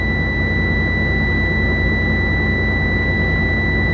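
A truck engine runs at a steady idle during an air brake compressor build-up check, giving a constant loud drone with a sustained high whine on top and no talking.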